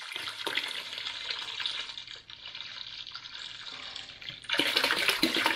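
Windshield washer fluid pours into a bucket for tractor tire ballast, a steady, close gushing splash that dips briefly, then swells louder near the end.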